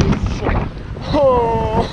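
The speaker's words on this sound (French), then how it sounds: "Oh, il y a trop de vent là." Strong wind gusts buffet the microphone outdoors during skateboarding practice, a rough low roar that swells and fades, with a brief tonal whine and a bit of voice near the end.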